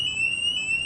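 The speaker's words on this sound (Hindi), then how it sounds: "Attention, attention, fire alarm, fire alarm." A building fire alarm sounds during a school evacuation drill, a loud, piercing electronic tone held steady and unbroken, with faint room noise underneath.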